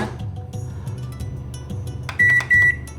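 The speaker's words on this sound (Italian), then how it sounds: "lo prendiamo e lo mettiamo un attimo in microonde" Microwave oven warming a bowl of vegan onigiri filling, with a steady low hum under the turntable, then a pair of loud, sharp electronic beeps as it finishes.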